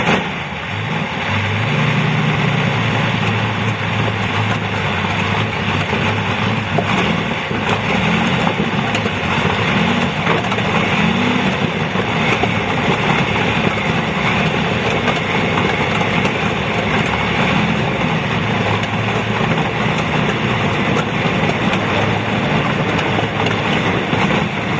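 A 27-litre Hispano-Suiza aero engine in a vintage racing car runs steadily and loudly at Donington Park, a deep rumbling drone with a rough, throbbing texture and no voices.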